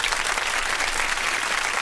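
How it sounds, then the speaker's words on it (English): A short burst of crowd applause plays as a sound effect on a radio show, a dense, even clapping roar lasting under two seconds. "Clap that up, man."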